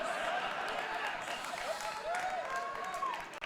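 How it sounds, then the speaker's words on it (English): Audience at a beer awards ceremony claps and applauds steadily across the room, a dense, continuous wash of many hands with some crowd noise mixed in. "the people in the two front rows clapping for their headmaster"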